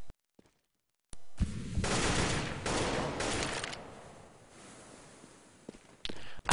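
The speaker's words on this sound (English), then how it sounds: "SMN, he will pick up the first frag" Gunfire in a Counter-Strike match between NiP and N!faculty: a loud flurry of rapid shots and bursts after a moment of silence that tapers into quieter rustling, with another sharp burst near the end.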